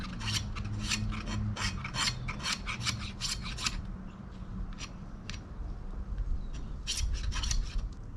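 A Nitro V steel knife scrapes its spine along wood to raise fire-starting shavings, giving a series of quick, close, rhythmic rasping strokes with a short lull before a final burst.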